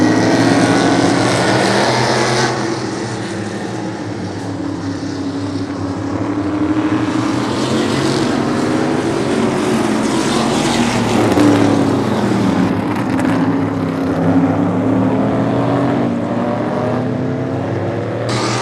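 Vintage race cars on a short oval track make a loud, continuous engine roar that swells and fades as the pack passes, with no speech.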